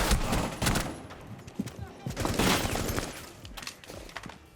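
Bursts of SMG-11 gunfire in Rainbow Six Siege, rapid close-range volleys with recoil-heavy chatter, recurring in clustered sprays across the clip.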